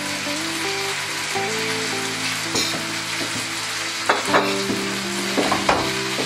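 Aubergine and potatoes fry with turmeric, cumin and coriander powder, stirred in the pan: a steady close sizzle with scraping, clacking spoon strokes, sharper knocks near the end, no talk.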